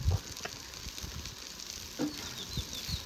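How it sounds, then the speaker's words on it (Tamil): Cumin seeds dropped into hot oil with browning onions for a mushroom kurma, giving a faint, steady crackling sizzle with a few soft pops, close and quiet, no voices. "சீரகம் போடுறேன்."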